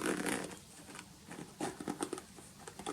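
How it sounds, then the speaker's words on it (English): The side zipper on a Nike Jordan 1 FlyEase sneaker is pulled along its length, giving close, soft, rapid ratcheting rasps in several short strokes, with no talk. "the sneaker zips all the way down"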